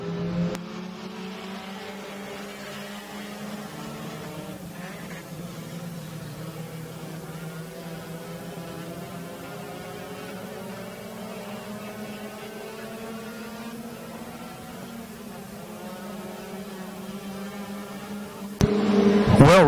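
A field of B-Modified race cars roars around the Lake Ozark Speedway dirt oval, engines droning and revving in sustained, overlapping tones, with a louder burst of noise right at the end.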